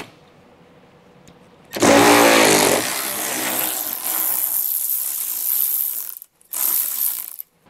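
A power ratchet or impact tool whirs loudly and continuously while backing out 10 millimeter screws from a bracket during a trailer hitch install on a 2022 vehicle, pausing briefly near the end before running again.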